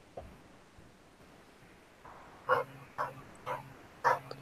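A pet dog gives four short barks at a quick, even pace after a quiet stretch, faint but distinct in a hushed indoor room, with no one talking.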